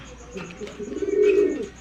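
A racing pigeon coos close by, a soft, throaty, rolling call that swells briefly and then fades.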